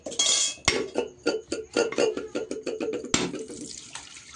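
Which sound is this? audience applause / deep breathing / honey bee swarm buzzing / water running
water running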